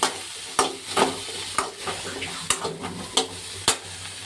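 Sambar vegetables frying in a pan as they are stirred, a steady sizzle punctuated by regular sharp spoon scrapes and knocks roughly every half second, close and clear.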